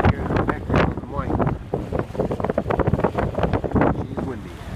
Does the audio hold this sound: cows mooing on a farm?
no